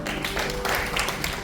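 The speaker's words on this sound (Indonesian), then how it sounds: "Bangkit berdiri, tepuk tangan yang keras berdoa." A church congregation at a Christmas service claps loudly together, a dense, even patter of many hands heard at moderate distance and somewhat faint.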